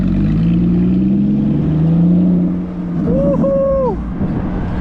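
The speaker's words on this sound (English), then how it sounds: "You got a new exhaust? Oh, I can hear it." A Porsche fitted with a new aftermarket exhaust revs at a car meet, its engine rumble swelling and holding steady for several seconds, loud and close, with a person speaking briefly over it near the end.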